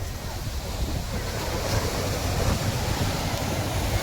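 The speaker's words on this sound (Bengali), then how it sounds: "এদিকে ফাঁকা, এই ঢেউটা খুব ভালো আছে" Sea waves break on a beach in a continuous, rushing wash of surf, loud and close, with gusty wind buffeting the microphone.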